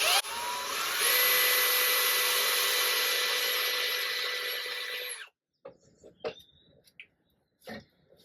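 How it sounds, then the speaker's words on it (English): A power drill whirs continuously for about five seconds, grinding into metal while boring out steering column shear bolts on an MG, then stops, followed by a few scattered clicks and scrapes. "how we get on drilling out the shear bolts"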